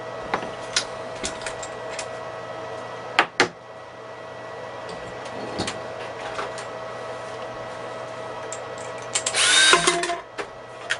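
A power drill bores switch holes in an electronic load enclosure: scattered clicks and knocks of handling, then a short, sharp high whine of drilling near the end, with no talking.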